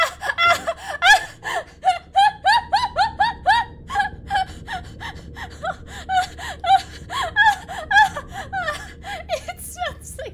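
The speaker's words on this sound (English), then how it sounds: "That's breathing." Heavy, rhythmic creature breathing from the video game Silent Hill 3, a steady series of wheezing, moaning gasps pulsing like a chugging train, loud and close throughout.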